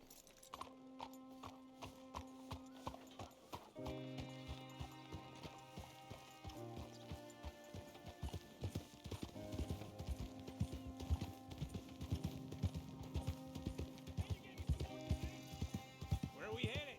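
Horse hooves clip-clop at a steady walking rhythm while riding in Red Dead Redemption 2, close and clear over a bed of game music, with a few whinnies and no talk.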